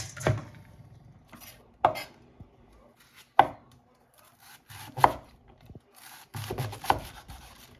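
A razor-sharp knife shreds cabbage into thin slices on a board, making five or six crisp, spaced chopping thuds with soft rasping between them and a quick cluster of cuts at the end, close and quiet.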